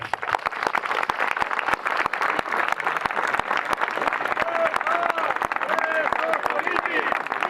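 Crowd applause at a Catalan political rally, steady dense clapping and cheering lasting throughout, loud and continuous with scattered voices mixed in.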